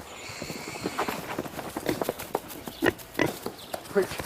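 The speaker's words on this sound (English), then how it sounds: "they're just baby pigs" Piglets squeal and grunt in quick, scattered bursts, with scuffling footsteps and hoof-like clatter nearby.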